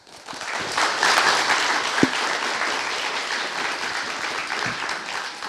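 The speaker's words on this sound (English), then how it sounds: "could give I guess, a hand of applause for our first speaker, Andrew." A conference audience breaks into dense, steady applause for a speaker that swells quickly and keeps going for several seconds, loud and close.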